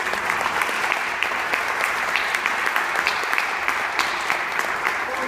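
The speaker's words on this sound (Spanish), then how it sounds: "Un aplauso para todos." Audience at a municipal hall event in Chiriquí applauding steadily and loudly, a dense wash of many hands clapping alone without pause.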